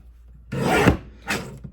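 Rotary paper trimmer slicing through a sheet of cardstock in two brief rasping strokes, a longer cut followed by a shorter one, close and fairly loud with no talking.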